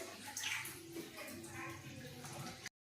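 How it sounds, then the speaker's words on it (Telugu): Water pours into a kadai pan set on a lit stove, a short close gush and splash that ends abruptly. "కొంచెం వాటర్ పోద్దాం ఫ్రెండ్స్"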